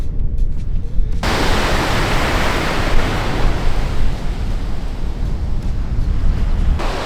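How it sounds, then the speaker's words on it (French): Ocean waves breaking on a beach in Brittany, a loud continuous roar of surf and wash filling the whole stretch, with some wind buffeting the microphone. "il y a des belles vagues"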